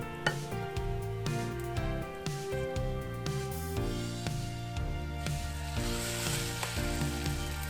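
Egg-coated bread for French toast lands in a hot pan and sizzles quietly, the hiss rising in the second half over steady tonal background music.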